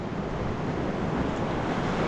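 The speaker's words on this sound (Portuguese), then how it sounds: "A água bate aqui, na verdade, né?" Sea waves wash against a rocky shore at low tide beside coastal houses, a continuous broad rushing roar with wind buffeting the microphone and no voices.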